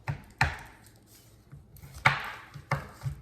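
A knife chops chocolate on a board for a skillet cookie, making about five sharp, separate cuts at an uneven pace, close and fairly loud, with quiet pauses between strokes.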